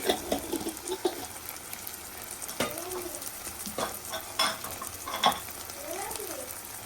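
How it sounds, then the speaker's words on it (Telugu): Spices, salt and two spoons of coriander powder frying on a low flame for kushka biriyani: a steady, soft sizzle with repeated scraping and stirring strokes from a spoon in the pan, close by. "అలాగే ధనియాల పొడి టూ స్పూన్స్ ఇవన్నీ సిమ్లో ఉంచుకొని బాగా ఫ్రై చేసుకోవాలి"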